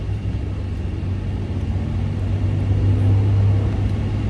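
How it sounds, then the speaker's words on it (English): Steady low engine rumble and road drone from inside a car moving off a ferry, with air conditioning running; continuous and fairly loud, swelling slightly toward the end, no talking. "I came back to the car, and now we're in a moving car."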